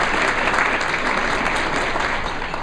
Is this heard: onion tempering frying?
no